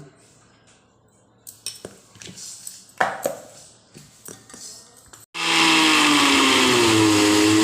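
A mixer grinder blends chopped coriander leaves with salt, starting abruptly after a few clinks and taps of utensils, then running as a loud, steady whirring roar to the end.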